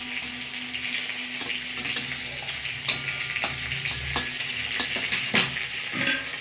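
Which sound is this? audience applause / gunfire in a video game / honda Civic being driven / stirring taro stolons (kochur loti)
stirring taro stolons (kochur loti)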